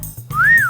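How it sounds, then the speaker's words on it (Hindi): A single short whistle from a person at a police station, a clear rising and falling tone lasting about half a second after a brief pause, close and loud with no talk over it. "बड़ी भिन्न भिन्न प्रकार की सीटियां बजानी आती हैं तने तो"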